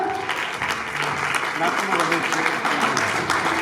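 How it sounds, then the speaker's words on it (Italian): Applause from the audience at the Miss Perla 2021 beauty pageant at Villa Godi Malinverni, honouring an actress and model. The clapping is steady, dense and fairly loud, with voices mixed in underneath. "Vi facciamo un applauso."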